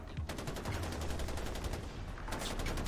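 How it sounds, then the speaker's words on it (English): Enemy gunfire in Far Cry 4 rattles in rapid automatic bursts, a dense continuous volley at moderate distance with brief gaps, with no voices over it. "Actually, he's firing."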